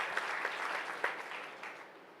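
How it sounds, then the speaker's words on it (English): A small investor-pitch audience at Unbound Miami 2018 claps for a presenter, a brief, fairly faint patter of hands that fades away within a couple of seconds. "Round of applause for Daniel"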